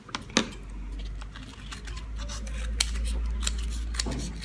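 Scissors cutting through an EVA foam sheet for a craft keychain, a close, steady crunchy slicing with a few sharp snips and clicks over a low hum, no talk.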